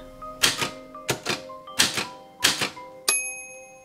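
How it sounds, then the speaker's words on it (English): A typewriter in the video game Haunted Typewriter 2 typing in bursts of rapid clacking keystrokes, each burst separated by a short pause and ending with a bright bell-like ding, loud and close. "don't you want to know what the typewriter is typing?"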